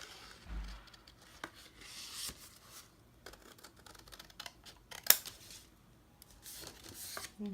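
Scissors cutting through folded paper for a snowflake template, sounding as faint, close snips and rustles with soft paper handling in between and one sharper click.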